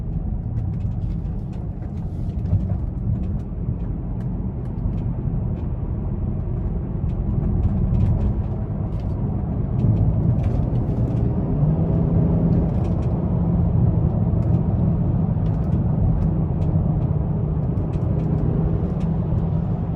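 A 2017 BMW X5 M Sport driven in sport mode, its steady engine and road drone holding loud and constant throughout, with no voices over it.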